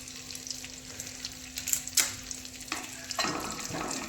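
Ginger garlic paste sizzles in hot butter in a pan while paneer masala is being cooked. A steady crackling hiss is broken by a few sharp clinks of stirring, and the sizzle swells louder toward the end.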